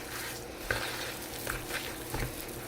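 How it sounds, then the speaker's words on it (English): Bread dough for a no-yeast loaf, made with a cup of milk, is worked by hand in a bowl. Soft, continuous squishing and stirring noises run throughout, with a few slightly louder wet slaps. Nobody speaks. "I'm just going to use my hands, mix it up."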